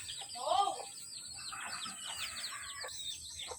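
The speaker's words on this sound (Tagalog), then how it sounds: "Ayan, may tandang tayo." A rooster gives a short cluck-like call up close, followed by softer bird chatter and faint background sounds.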